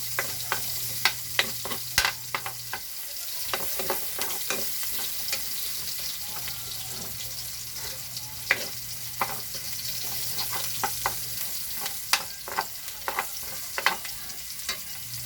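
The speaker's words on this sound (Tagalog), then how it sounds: "sasayin na natin siya guys para maghalo na siya dun sa bango" Garlic and onion sauté in a pan, a steady close sizzle broken by repeated scrapes and clacks of a spatula stirring through the pieces, with a low hum running underneath for part of the time.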